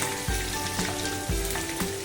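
Green chillies sizzle loudly in hot oil as a tempering for soft dhokla, a dense continuous hiss punctuated by a few sharp pops and stirring scrapes, close up with no voices.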